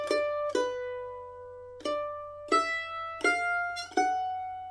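A mandolin picks out a melody, separate plucked notes ringing out in a slow, even waltz rhythm, clear and close in a quiet room with no talk.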